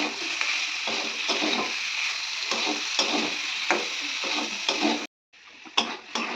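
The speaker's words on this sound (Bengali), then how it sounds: "তো দেখতে পাচ্ছেন আমি ভাজছি" Spiced vegetables fried and stirred in a pan for a Bengali home meal, a continuous sizzle broken by rhythmic scraping strokes of a spatula, fairly close, with a brief drop near the end.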